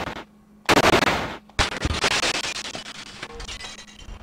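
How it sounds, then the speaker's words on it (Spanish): Sharp pistol gunshots crack out in a quick burst at a mirror in the video game Alone in the Dark: The New Nightmare, followed by a longer crash and shattering tinkle of breaking glass that trails off. "A ver qué pasa si disparo con la pistola."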